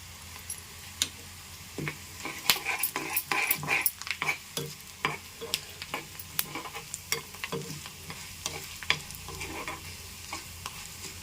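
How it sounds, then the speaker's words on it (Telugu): Mustard and fenugreek seeds splutter in hot oil in a pan, with sharp irregular pops and crackles over a soft sizzle, plus occasional spoon scrapes, close and fairly quiet. "చక్కగా వేగుతున్నాయి కదా చిటపటాలు ఆడుతున్నాయి"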